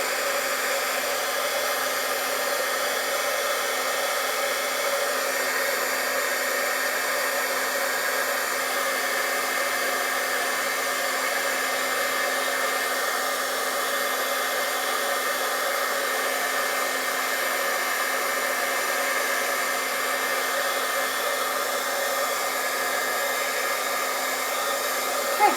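A heat tool blows a steady, unbroken whoosh while it melts embossing powder on a butterfly lace stamped craft card, holding at a constant level for the whole stretch with no talking.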